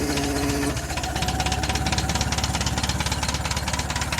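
An old tractor engine runs just after a cold start, settling into a loud, steady, rapid knocking chug that pulses evenly without a break.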